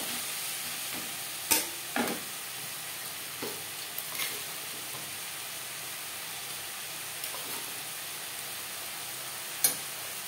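Onion and tomato with salt and turmeric being stirred in a frying pan for a Bengali katla fish head curry, a steady soft sizzle broken by a few sharp scrapes and clinks of the spoon.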